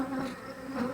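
Honeybees buzzing around an opened Flow Hive during an inspection, a steady close, droning hum that swells and wavers as agitated bees fly near.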